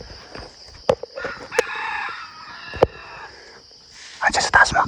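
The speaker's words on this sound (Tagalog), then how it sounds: "Aabangan natin yung tilaok doon banda sa kabila" A wild labuyo junglefowl rooster crows from some distance, with a couple of calls rising above scattered clicks and quiet whispered talk nearby.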